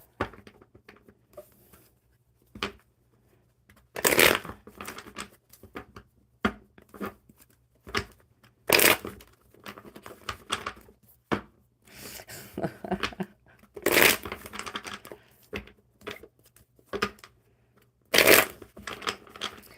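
Playing cards being shuffled during a live coffee-club stream, heard as repeated bursts of riffling and crisp flutters at an irregular pace, fairly close, with no voices in the gaps.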